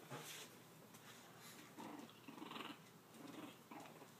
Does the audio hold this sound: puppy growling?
yes